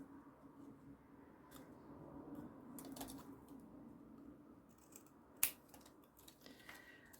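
Scissors snip the corners off book pages, a few quiet, sparse cuts over faint room noise, with one sharper snip near the end.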